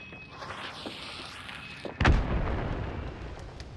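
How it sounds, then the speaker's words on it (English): A chaos bomb goes off in the Hunt: Showdown video game, one sharp loud blast with a heavy low thump that rolls into a crackling, sustained rumble over steady background ambience. "Throwing another chaos bomb"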